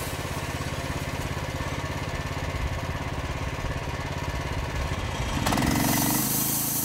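A Norwood sawmill's engine runs with a steady, close mechanical drone as the blade cuts through a board, and the pitch and loudness shift near the end.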